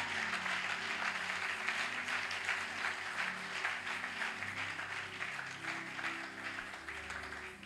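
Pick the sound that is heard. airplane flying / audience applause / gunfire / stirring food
audience applause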